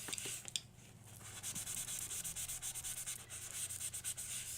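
Open acrylic paint being rubbed by hand onto a gel printing plate, giving repeated scratchy swishing strokes in a quick back-and-forth rhythm, close and fairly quiet with no talking.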